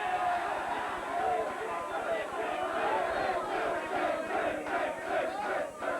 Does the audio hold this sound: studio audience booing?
yes